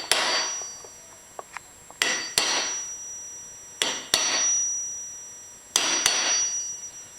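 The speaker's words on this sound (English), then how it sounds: "you need your piece of wood, your hammer, and your chisel, and I like to start out in the center and just make a mark down it." A hammer strikes a chisel to mark a piece of metal resting on wood, in three pairs of sharp, ringing metallic blows with short rubbing sounds between, close and alone.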